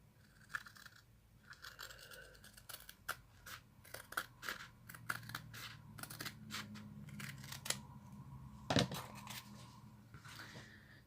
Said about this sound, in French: Et donc, je vais couper. Donc, un ciseau.